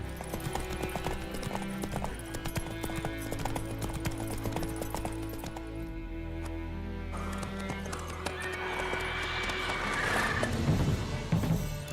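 Hooves of Roach, Geralt's horse in The Witcher 3 video game, clip-clop steadily and close, with a whinny near the end, set over continuous game music and ambience.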